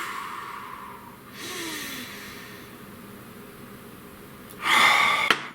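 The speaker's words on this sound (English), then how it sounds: "Please take a nice deep breath." A slow, deep breath drawn in softly, then a louder, rushing exhale near the end, close and alone in a quiet room.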